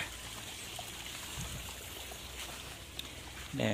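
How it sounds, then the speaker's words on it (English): Fresh water trickles and pours steadily into a gold pan at a creek in Victoria, Australia, a continuous close-up splashing wash with a louder splash at the very end. "Might just put a bit of fresh water in this."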